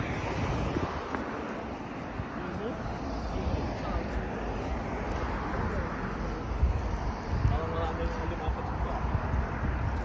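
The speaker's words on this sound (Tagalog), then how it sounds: "Kaso malakas ang ano ng tubig, yung agos, oh." Strong current and waves at Merimbula, New South Wales, rush steadily as broadband surf mixed with wind buffeting the microphone, loud and continuous throughout, with a person talking intermittently over it.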